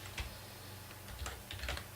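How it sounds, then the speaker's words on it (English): Typing on a computer keyboard during a Python coding session, a quiet run of soft key clicks with a few sharper taps clustered near the start and end, close by and with no voices. "Typing."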